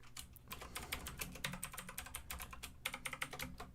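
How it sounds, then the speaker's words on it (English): Rapid, uneven clatter of typing on a computer keyboard, close and fairly quiet, with dense keystrokes in bursts and a short pause midway, no voices. "Y'all can hear the keyboard, I'm sure."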